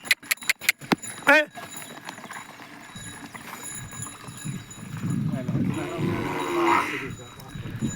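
Cows and a calf run on a farm with a clatter of fast hoofbeats at the start, followed by a low moo and a steady rumble of movement while people talk nearby.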